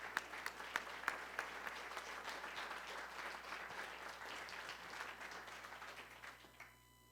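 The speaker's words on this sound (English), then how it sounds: "stand up and give her an applause" Conference attendees at the Grand Hotel Reykjavik applaud a speaker as she is welcomed, a steady fairly soft patter of many hands clapping that tapers off near the end.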